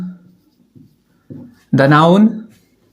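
Chalk or marker scratches across a board in short strokes, with brief pauses between them, and a voice then starts talking over the writing.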